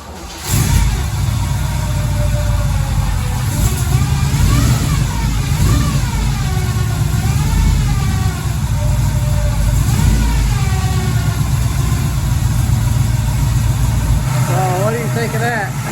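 A 1968 Pontiac Firebird with a timing gear fires up and settles into a loud, close idle, then revs repeatedly in rising and falling sweeps, with someone speaking over the engine.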